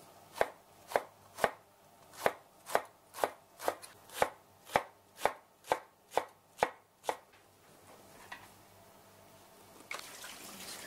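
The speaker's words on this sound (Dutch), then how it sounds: "Dat is ijsbergsla snijden." A knife chops iceberg lettuce on a board in a steady run of about fifteen sharp, evenly spaced cuts, then stops; faint trickling follows.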